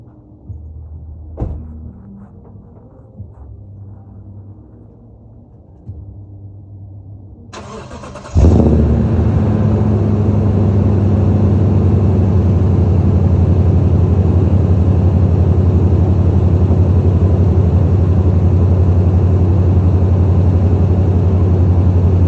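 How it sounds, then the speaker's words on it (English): A 2013 Toyota Tundra pickup truck cold-starts after a few quiet seconds of faint handling noises, its engine catching with a loud burst and settling into a steady, close, rumbling idle. "do a cold start for you guys when I leave tonight"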